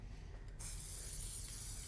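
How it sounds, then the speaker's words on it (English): Spray varnish hisses out of an aerosol can in one steady, close burst lasting over a second, with no talk over it. "Yeah, that sprayer seems to work."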